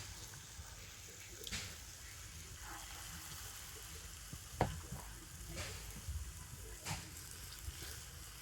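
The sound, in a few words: fritters (bora) frying in a pan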